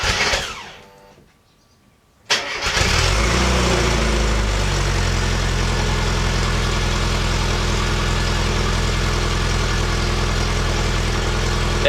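A Rover Mini MPI engine, just fitted with a replacement fuel pump, cranks briefly after a quiet moment, then fires and settles into a loud, steady idle that stays close and constant.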